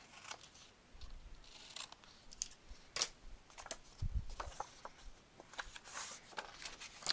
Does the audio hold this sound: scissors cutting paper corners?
yes